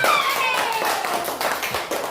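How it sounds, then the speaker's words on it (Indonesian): Children clapping their hands together in a classroom, a burst of scattered claps with a faint tonal sound above, briefly filling the room. "kasih tepuk tangan untuk Ryan."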